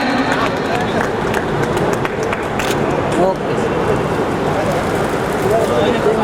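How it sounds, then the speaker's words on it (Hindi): Sustained crowd applause fills a school retirement function, a thick crackling wash of many hands clapping without a break, with a voice talking over it. "जोरदार ताली से स्वागत करें।"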